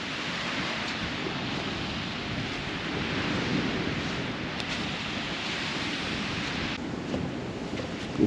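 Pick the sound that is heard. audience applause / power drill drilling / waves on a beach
waves on a beach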